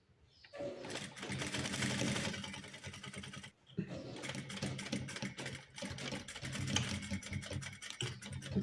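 A sewing machine runs steadily while stitching blouse fabric, a fast continuous whirring rattle that stops briefly partway through and then resumes, close and dominant with no voices.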